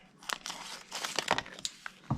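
Scissors snip and crinkle through a plastic shipping package holding Treal knuckles for an H10 Vanquish, a close series of sharp crackling cuts and rustles spread over about two seconds.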